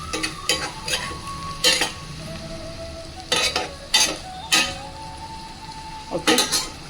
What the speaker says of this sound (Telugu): ఇప్పుడు మెల్లగా ఈ పీసుల్ని పైన తిప్పేసుకుందాం